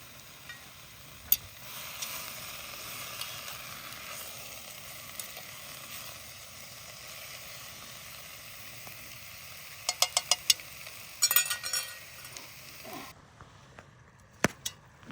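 Meat and onions fry in a pan at a winter campsite, giving a low, steady sizzle with a few sharp scrapes and clinks of stirring toward the end.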